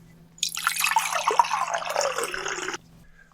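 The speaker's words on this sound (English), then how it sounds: "I'm gonna go get a glass of water." Water runs from a tap into a glass for a couple of seconds, a steady close splashing pour that starts and stops abruptly over a low background hum.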